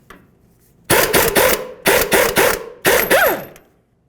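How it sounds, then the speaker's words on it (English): A wrench working the 22mm jam nut on the steering tie rod of a 2000-2005 Buick LeSabre, heard as three loud, close bursts of rapid rasping, grinding turns separated by short pauses. "let's go ahead and remove that 22mm jam nut"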